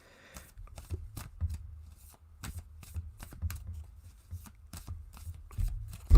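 Playing cards are shuffled repeatedly close up, a rapid series of riffling, flapping bursts with short pauses between them.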